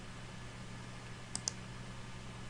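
Two quick, quiet computer mouse clicks, a split second apart, rise above a steady low hum with no talking.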